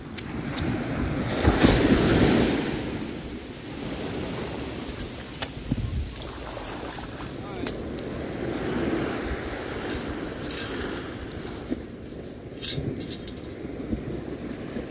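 Ocean surf at a Southern California beach rolls in a steady wash with wind buffeting, a louder swell early on, and scattered faint clicks and rustles over the continuous roar.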